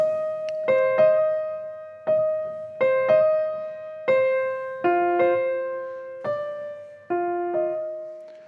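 Single piano notes struck one at a time in a slow, repetitive rhythm, each ringing out and fading before the next, with no talking.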